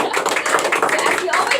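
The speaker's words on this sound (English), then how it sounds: "Give yourselves a warm round of applause." Workshop participants clap together in a dense burst of applause, with voices mixed in.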